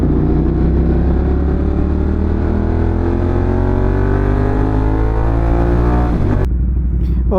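Engine of a Ducati Monster motorcycle while riding on the road, a loud, steady droning hum that rises in pitch as it accelerates, then drops abruptly near the end, with wind noise throughout.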